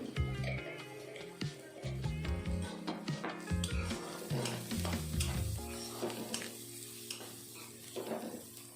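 Turmeric is stirred into frying oil for bitter gourd fry, with a soft sizzle and irregular spoon scrapes against the pan, under steady tonal background music.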